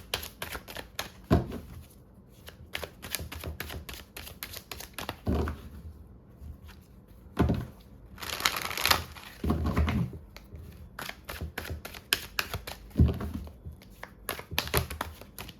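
Tarot cards being shuffled by hand during a Hindi reading, heard as repeated crisp riffling bursts and soft slaps in irregular rhythm, close and moderately loud with no talk over them.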